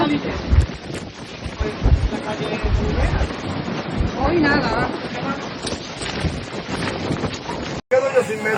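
Strong storm winds gusting up to 150 km/h during Storm Kristin in Andalusia, Spain, roaring and buffeting a microphone loudly throughout, with low rumbling bursts and talk mixed in.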